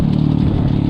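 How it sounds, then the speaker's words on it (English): An X-Pro Storm 150 DLX dirt bike with an FMF exhaust runs hard during an outlaw enduro race, a loud, close, rapid-firing engine drone with a throbbing low pulse. "The bike is just barking right along"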